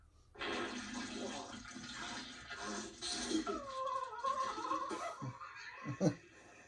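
An explosive comic toilet sound effect from the film Dumb and Dumber: a loud gushing, gurgling water surge swells into bubbling, churning eruptions that end in a few sharp splashes, with faint laughter in the mix.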